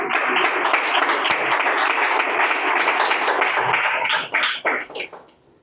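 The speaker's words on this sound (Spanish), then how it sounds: "Pues dale un aplauso al Señor." A church congregation claps steadily in sustained, dense applause during a sermon, fading out toward the end.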